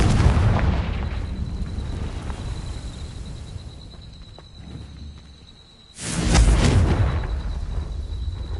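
Confringo fire spell cast in Hogwarts Legacy, a heavy booming blast with a rumbling tail that fades over several seconds, then a second loud explosion bursts in and roars on.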